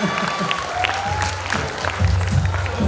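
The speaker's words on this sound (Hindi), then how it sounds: "एक बार तालियां बजाइए" Scattered clapping from a school audience at an annual function in Udaipur, fairly faint and mixed with crowd murmur, a low music-like hum and stray voices underneath.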